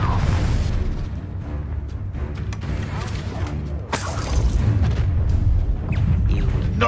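Confringo spell blast in Hogwarts Legacy, a loud crackling burst with a sharp shattering impact around the middle, amid ongoing combat rumble and noise.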